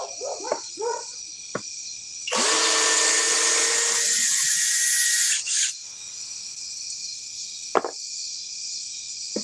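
A Flex power drill driving at speed 1, a loud close whirring motor burst lasting about three seconds, with a steady high insect-like background hum throughout.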